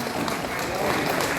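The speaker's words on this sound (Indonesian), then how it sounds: "Mari kita beri tepuk tangan" Applause from an audience at an alumni reunion held in a park, a short burst of dense, steady clapping mixed with crowd noise and voices.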